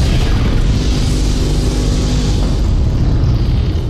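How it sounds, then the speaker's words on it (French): Cannon firing explosion sound effect: a loud, sustained, rumbling boom that fills the whole stretch with dense low roar and slowly thins toward the end, with no talk over it. "Activation du canon anti-spam dans 3, 2, 1, mise à feu."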